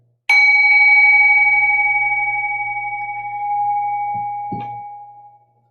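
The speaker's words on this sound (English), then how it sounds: "Just listening to the sound of the bell." A single bell struck once, ringing out with a clear sustained tone that slowly decays over several seconds, with a faint soft knock near the end.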